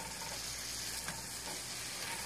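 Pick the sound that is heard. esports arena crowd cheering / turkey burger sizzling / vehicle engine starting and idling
turkey burger sizzling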